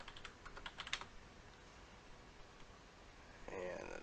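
Quick, faint keystrokes tap on a computer keyboard in a quiet room for about a second, then stop, followed by a brief soft rustle near the end.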